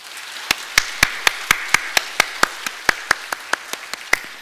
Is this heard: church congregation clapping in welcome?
yes